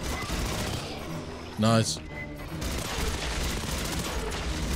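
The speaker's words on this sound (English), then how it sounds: "This gun is just stupid fun, man." Gunfire from a weapon in the video game Aliens: Fireteam Elite, with one loud booming blast followed by rapid, dense bursts of shots, while someone speaks briefly.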